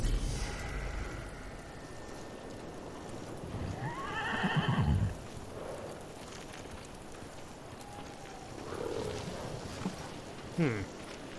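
A horse in the video game Ghost of Tsushima whinnies a couple of times over soft hoofbeats and low ambient rumble, with a brief vocal sound in between.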